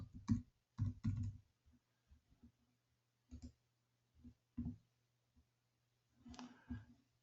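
Typing on a computer keyboard: irregular bursts of close, crisp clicking keystrokes separated by short pauses, over a faint low hum.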